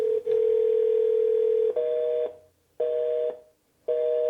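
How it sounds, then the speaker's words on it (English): A steady, loud telephone dial tone holds for nearly two seconds, then breaks into repeated on-off tone bursts separated by short silences, heard when a call fails to enter an unemployment claims queue. "That dial tone means that they did not get into the queue."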